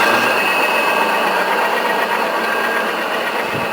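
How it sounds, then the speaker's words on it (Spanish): A three-phase electric motor starting in two-phase mode on capacitors gives a loud, steady mechanical hum and whir. The drone holds through the whole stretch without a break, and no one speaks over it. "Vamos a oír el típico ruido que hace un motor cuando arranca en forma bifásica"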